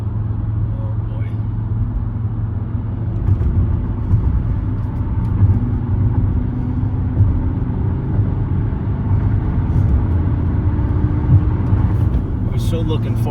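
A 1997 Mercedes E290 turbodiesel with a five-speed gearbox drives through traffic, its steady low engine drone and road rumble running continuously close by, with a faint passing vehicle here and there.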